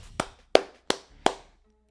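Four sharp hand claps spaced about a third of a second apart, close and crisp, with nothing else sounding in between.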